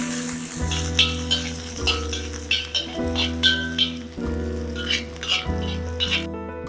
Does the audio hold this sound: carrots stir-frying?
yes